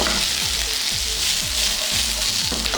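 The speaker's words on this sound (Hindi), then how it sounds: "तो करेंगे अच्छा से सौते, ये देखें।" Diced onion and capsicum sizzle and fry steadily in a hot pan, a loud, close, continuous crackle with a few rhythmic stirring scrapes and no voices.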